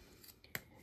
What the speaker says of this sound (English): You want to do this with your good sewing scissors.